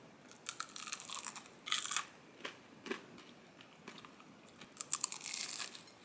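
Crispy fried shrimp is bitten and chewed up close, with sharp crunches in uneven bursts and quieter gaps between bites.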